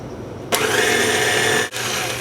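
An electric hand mixer whirs loudly and steadily through chocolate mocha cheesecake batter, switching on abruptly and briefly dipping before carrying on, with no talking.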